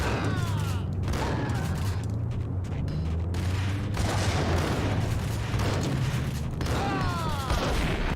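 Grenade explosion in the Max Payne video game amid gunfire, a dense loud burst with heavy low rumble filling the scene, repeated blasts and shots layered over continuous game ambience.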